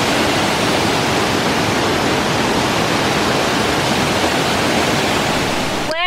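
Cascada de la Clara, a waterfall in Norcasia, Caldas, roaring as a loud, steady, close rush of falling water that fills the whole stretch before cutting off abruptly.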